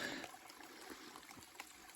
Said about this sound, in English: That's a cool little spring.